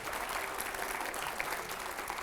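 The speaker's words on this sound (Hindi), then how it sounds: "पहले जोरदार तालियां हो" Steady, dense applause from a television studio audience fills the short stretch, even in level and moderately distant, with no voices standing out.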